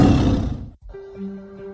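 A roaring tiger sound effect in a college sports radio jingle for a university's Tiger athletics, one loud growling roar that breaks off, then a fainter sustained tonal drone of music.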